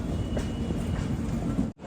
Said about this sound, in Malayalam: ആന്ധ്രാപ്രദേശിലെ വിജയവാഡ റെയിൽവേ സ്റ്റേഷനിലേക്ക് ഇതാ നമ്മുടെ ട്രെയിൻ എത്തിക്കൊണ്ടിരിക്കുകയാണ്